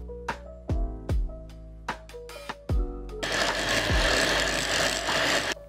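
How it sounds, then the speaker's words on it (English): A handheld electric beater works cupcake batter, preceded by several knocks and clattering taps before the motor starts into a loud, steady whirring drone that runs to the end. "I'm using my handheld beater."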